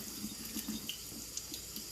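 Warm tap water runs steadily from a faucet while a chick is washed, a soft continuous stream with light splashing and drips, fairly quiet and close, with no talking.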